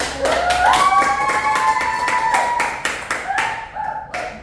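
Classroom applause for a student group that has just finished presenting, with scattered claps building into a steady patter close by, plus a few sharp taps and a faint whistle-like tone over it.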